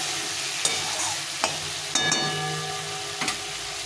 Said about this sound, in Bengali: আলুটা দিয়ে খুব একটা ভাজবো না আলুটা ভাজা আছে একটু নেড়ে চেড়ে নিয়ে